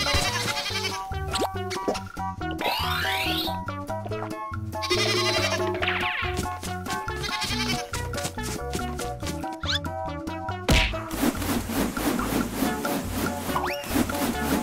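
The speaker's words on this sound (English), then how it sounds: "Goat." A goat bleats repeatedly over bouncy, busy children's music with cartoon sound effects, the wavering calls recurring in short bursts throughout.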